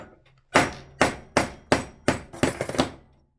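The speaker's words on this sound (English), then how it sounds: "we will get our anvil, get our hammer, and our punch, and we will knock it out." Hammer striking a punch on an anvil to knock a pinned part out of an antique Junghans calendar wall clock: six sharp metallic blows close up, evenly spaced, then a quick flurry of lighter taps.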